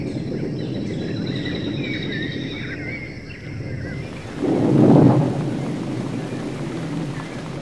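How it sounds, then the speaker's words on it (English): Steady heavy tropical rain in a Costa Rican rainforest hisses throughout, with a low rumble swelling briefly midway, like distant thunder under the downpour. "now, it's time for the daily downpour"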